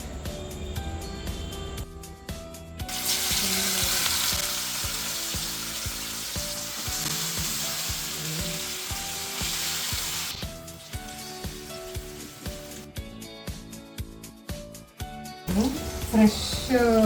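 Fresh fish frying in hot oil, a loud continuous crackling sizzle that swells and fades in long stretches, heard close with a voice talking over parts of it.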